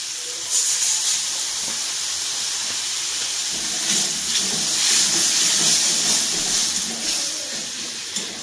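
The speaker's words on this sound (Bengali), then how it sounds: "এখন এর মধ্যে দেবো আমি একটুখানি জল।" A little water splashed into a pan of sizzling crab masala sets off a loud, sustained steamy hiss that swells and eases in waves over several seconds.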